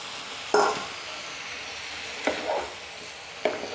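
Mixed vegetables tipped into a pan of cooked-down tomato masala and stirred, with three distinct scraping stirs and bursts of sizzle over a quiet frying hiss.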